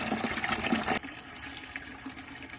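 Hot water rushes into a plaster rinsing bucket at a log cabin, a loud steady pour that cuts off abruptly and leaves a quieter trickle and slosh.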